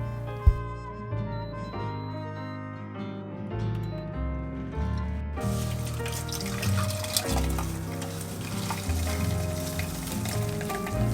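A blender switches on partway through and grinds onions, apples and a radish with a little water for kimchi paste, giving a loud, continuous whir over background music.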